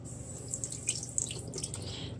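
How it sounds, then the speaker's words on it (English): Embroidered fabric with water-soluble stabilizer being rinsed and moved by hand in water, giving soft continuous sloshing and dripping close by, fairly quiet with small splashy peaks throughout. "I'm just gonna keep moving it, rinsing it."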